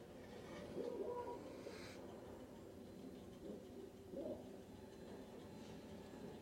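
Pigeon cooing during a slow-motion scene in the video game Battlefield 1, a few soft, faint coos against a low, murky background rumble.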